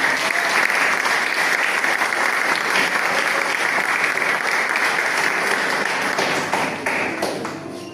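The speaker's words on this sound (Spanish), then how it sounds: "denle un aplauso para el Señor" Sustained applause from an audience at a church retreat conference, dense and fairly loud clapping that holds steady, then fades slightly toward the end, with no talking over it.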